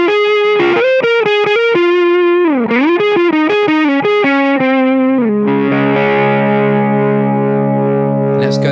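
NRG Effects PUMPER-072 MKII effect with the treble fully cut for a warm tone: a loud, dark processed synth line of stepping notes that settles into a sustained chord.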